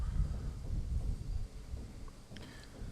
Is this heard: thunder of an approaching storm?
yes